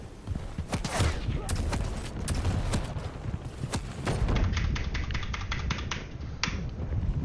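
Rapid gunfire in Quake crackles in dense, sharp bursts, shots stacking close together at a steady loud level throughout, mixed with quieter clicks and game effects.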